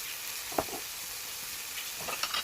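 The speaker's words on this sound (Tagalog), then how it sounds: "So, just stir it or mix." Chop suey vegetables with oyster sauce sizzle in a pan while being stirred, with a few scrapes and clinks of the utensil standing out over the steady frying hiss.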